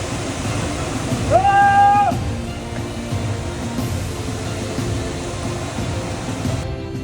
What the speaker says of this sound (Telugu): ఫాల్స్ దగ్గర నుంచి హెవీ ఫ్లో వల్ల ఇక్కడ పడుతున్న వాటర్ ఫాల్స్ చూడండి